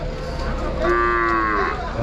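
A bovine at a cattle market in Vaniyambadi lows once, a clear sustained moo near the middle, over steady crowd and market noise with no talk.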